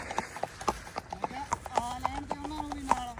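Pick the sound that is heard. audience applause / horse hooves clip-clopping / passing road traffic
horse hooves clip-clopping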